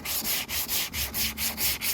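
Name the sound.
sanding filler on car bumper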